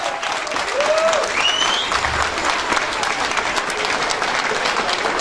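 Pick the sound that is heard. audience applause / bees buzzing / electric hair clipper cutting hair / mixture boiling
audience applause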